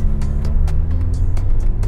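Engine of a 2008 Nissan Cube with a 1500cc motor pulling away, a loud, steady low drone heard from inside the car, with a few light knocks and clicks over it.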